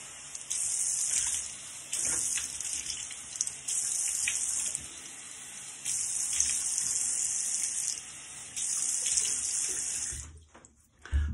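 Water runs from a bathroom tap into a sink for wetting the face before a shave, a bright steady gush in several bursts separated by short pauses, ending in quiet dripping and splashing.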